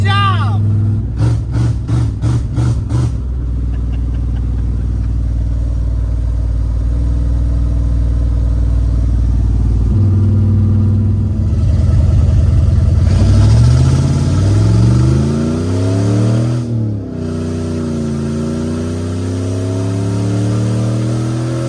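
A 1995 Chevrolet Camaro Z28 engine runs loud and steady, its revs climbing and dropping as the transmission shifts, slowly, up through the gears into third, with a brief burst of clicking near the start.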